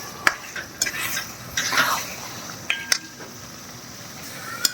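Green peas and masala are stir-fried in a pan. Sharp spoon scrapes and clinks ring out against a soft sizzle, arriving in irregular bursts. Nobody talks.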